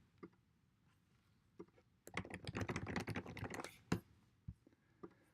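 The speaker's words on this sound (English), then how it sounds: "I'm going to type in some dummy text" Keys clatter on a computer keyboard as dummy text is typed, a few isolated taps first, then a dense, fast burst of keystrokes in the middle with a couple of sharper strikes and stray taps near the end.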